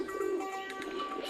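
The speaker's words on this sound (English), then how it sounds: "The only commotion is made by a flock of pigeons pecking for scraps." Pigeons cooing on a quiet Istanbul street at noon, a soft low warble repeating faintly and steadily over light background ambience.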